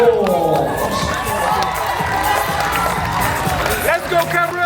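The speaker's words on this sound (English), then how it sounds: "And audience members, a round of applause." An audience at a natural bodybuilding show cheers and claps, a dense wash of crowd noise with shouts and whoops filling the space, with voices mixed in throughout.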